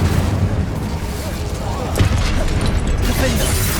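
Confringo and Incendio fire spells burst in Hogwarts Legacy, with heavy booming blasts rolling through a loud, busy combat soundscape, one strong hit standing out around the middle.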